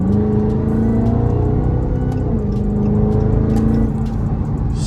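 Dodge Charger Redeye with fresh oil, its supercharged engine droning steadily up close with a deep, continuous rumble and a slight rise in pitch midway, no talking over it.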